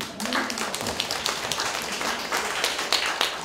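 A crowd claps together in a dense burst of applause that carries on steadily for a few seconds.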